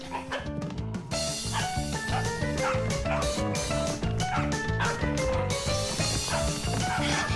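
Cartoon dog barking in yippy bursts throughout, set against a busy musical score with steady rhythmic backing, loud and close.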